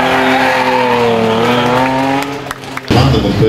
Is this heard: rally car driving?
yes